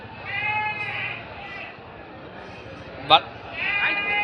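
Goats bleat at a busy goat market in Udayarpalayam, one sharp nearby bleat standing out while people talk over the crowd noise.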